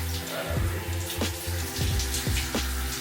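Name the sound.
water running from filtered shower attachment onto hair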